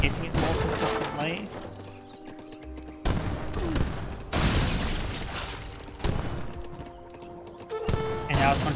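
Falconet artillery fires in an Age of Empires 3 battle, with repeated booming shots and scattered gunfire mixed among clattering hooves and other battle noise, fairly quiet overall.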